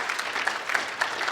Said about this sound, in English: can we just have a round of applause for the lenders